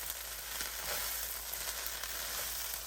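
Vegetables with mushrooms and two handfuls of kale fry in a pan as they are stirred in, giving a steady, close sizzle with a low constant hum underneath.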